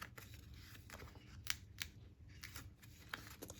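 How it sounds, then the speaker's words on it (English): Tear and Tape adhesive tape having its backing peeled off while a card is made, giving a few quick crisp ripping and crackling bursts over quiet room noise, close and fairly faint. "Ooh, removing my tear and tape."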